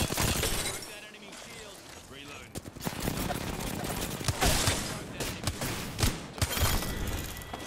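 Gunfire rattles in the Apex Legends video game, with bursts of shots and sharp impacts mixed with game effects across the stretch.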